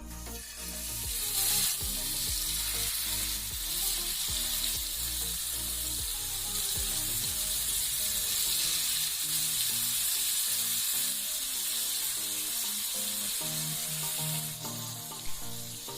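Fish fries in coconut oil in a pan, giving a dense, continuous crackling sizzle that stays loud and close throughout, with occasional spatters and a brief clatter near the start.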